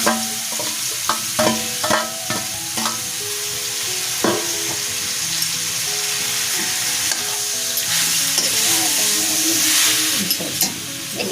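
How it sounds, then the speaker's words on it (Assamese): Elephant apple (ou tenga) frying in hot oil for a pickle, stirred repeatedly: loud close sizzling and crackling throughout, with rhythmic scraping and knocking strokes of the spoon against the pan. "এতিয়া ঔটেঙাখিনি দি দিব ন"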